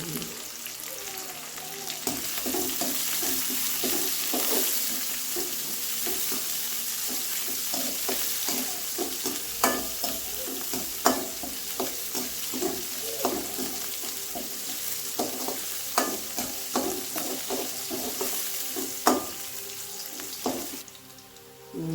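Steady sizzling and crackling from a hot pan sautéing curry leaves, chillies and banana flower, with frequent scraping and stirring clicks, close up and continuous, then a brief pause near the end.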